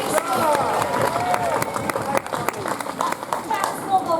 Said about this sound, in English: A cheer for our civics guild!